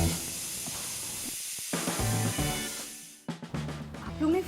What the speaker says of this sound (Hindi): किचन में सीटी बजी।